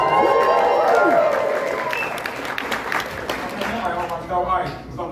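A comedy club audience at the Tempe Improv bursts into loud cheering and sustained applause, with whoops over clapping that gradually thins out.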